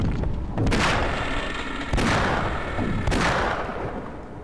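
Weapon fire in Half-Life comes as three heavy booming blasts spaced about a second apart, each leaving a rumbling tail, loud and close with no talk.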